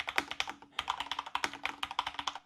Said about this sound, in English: what the MX2A Speed Silver switches means that they are less clicky, but they are more responsive